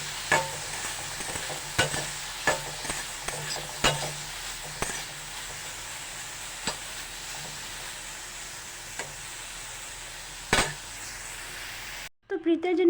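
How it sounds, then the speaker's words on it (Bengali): Soybean chunks fry in a pan with a constant sizzle, broken by repeated scraping clicks as they are stirred, and the sound cuts off abruptly near the end. "একটু সয়াবিনগুলোকে ভেজে নেবো"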